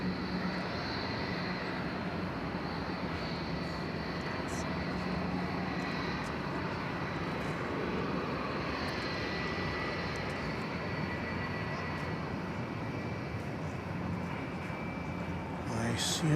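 A Qantas airliner flying at DFW Airport, a steady distant engine roar and rumble holding evenly for the whole stretch without rising or fading, heard alone with no talk.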